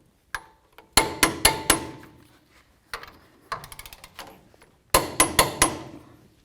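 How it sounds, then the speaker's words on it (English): Torque wrench clicking as brake caliper bracket bolts on a 2002-05 Dodge Ram front brake job are tightened to spec, sharp clustered clicks in three bursts, close and fairly loud with no talking. "Now let's torque these to 130 foot-pounds."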